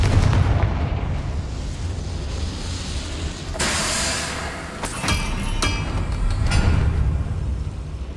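Confringo explosion spell blasts in the video game Hogwarts Legacy, a few loud booming bursts with sharp cracks over a rumbling combat background, no voices.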